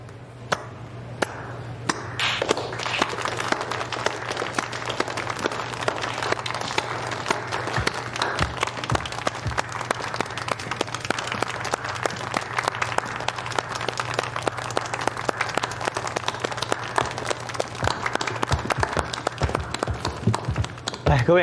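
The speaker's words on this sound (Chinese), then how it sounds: "来，各位，接下来我们有请乔小姐为大家带来《次钢狂想曲》，掌声欢迎" Audience applause welcoming Miss Qiao onto the stage before her piano rhapsody, a sustained wash of many hands clapping that runs steadily throughout, with a low constant hum underneath and a voice speaking briefly at the start.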